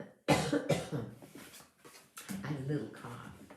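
A single sharp cough bursts out near the start, close and loud, and a person then keeps talking for the rest of the moment.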